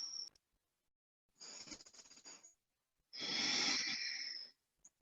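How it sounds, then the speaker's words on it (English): Deep breaths taken during a yoga class, two long airy breaths with a wheezy, whistling edge, close and quiet, with near silence between them. "Take a couple of big breaths here."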